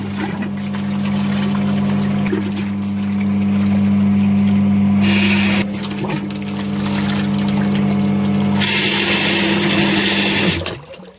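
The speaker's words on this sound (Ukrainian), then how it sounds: "Вмикаємо насос." A food pump moves pancake batter with a steady motor hum, a sloshing, liquid churn and occasional bursts of gushing flow that come and go.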